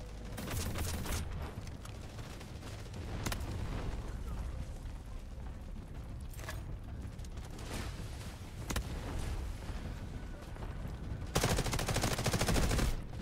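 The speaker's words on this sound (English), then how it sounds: "Artillery cover coming." Artillery barrage in Delta Force: Hawk Ops, a steady rumble of booms and distant gunfire rolling through the battlefield, with sharp louder impacts scattered throughout and a heavy blast near the end.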